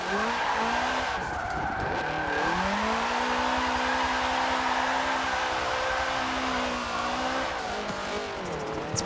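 A 2000-horsepower car sliding tail-out through a corner in a racing video game, with continuous tire squeal over a loud droning engine that rises and falls in pitch, sustained for about nine seconds.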